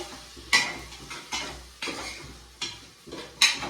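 A spoon scrapes and clanks against a pot as garlic is added and stirred into khichdi, four or five sharp metallic strokes at an even pace, close and fairly loud with a faint sizzle beneath and no talking.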